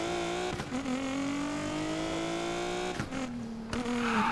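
Engine of an Infiniti Q60s drift build in Need for Speed Payback, a steady droning growl that rises in pitch with brief shift dips and a tire hiss near the end, loud and alone.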